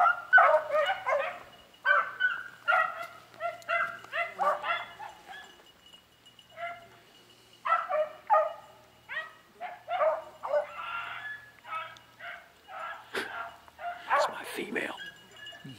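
Beagles bark and yip in scattered bursts, fairly close, with excited whimpers and brief pauses between volleys; human voices mingle in.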